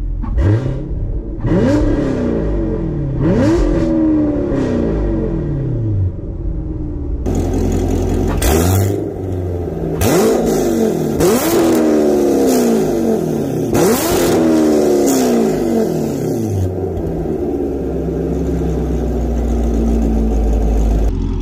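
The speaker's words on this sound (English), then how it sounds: "I'm going to do just a couple revs inside and outside of the car" A C7 Corvette with a Corsa Xtreme exhaust revs repeatedly, rising and falling in sharp loud bursts, with a deep rumbling exhaust between revs.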